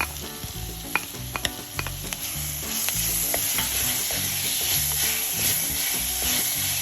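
Fried onions with crushed spices sizzle steadily in a pan for Tellicherry-style fish molee, with repeated scraping and clinking stir strokes over a continuous close frying hiss.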